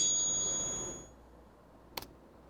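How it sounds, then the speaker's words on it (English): A metallic sword shing sound effect rings out as a bright, high, sustained tone that fades over about a second, followed by a brief sharp click in otherwise quiet surroundings. "this is going to be what you could call the shing"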